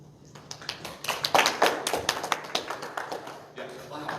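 Audience clapping at a conference session in Edmonton, Alberta: a moderate room full of scattered individual claps with uneven rhythm, swelling then thinning out over a few seconds, with faint voices underneath.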